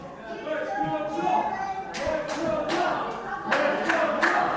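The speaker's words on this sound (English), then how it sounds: "Let's go, Tom. Chants the crowd." A wrestling crowd chants in a loud, continuous roar, with sharp bursts of clapping that grow more frequent in the second half.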